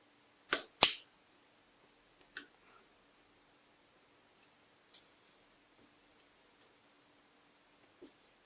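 A nail scratches grape variety names into metal tags, heard as two sharp close scrapes at the start, then a few fainter isolated ticks and scratches spaced apart in near silence.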